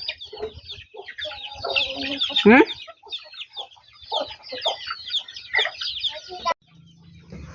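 A flock of chickens clucks steadily and busily close by, with overlapping calls throughout and a short murmured voice in the middle.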